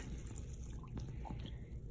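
Water is poured out of a paint water cup in a painting center, giving soft splashing and dripping trickles that are faint and close, over a quiet room.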